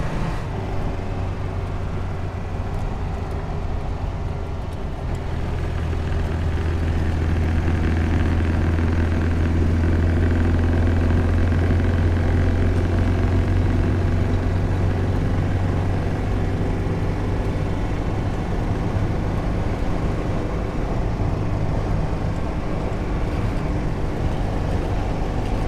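Jolene, a small old car, drives along a road: a steady, close engine drone and road rumble heard from inside, holding a constant low hum with a slight rise after the first few seconds.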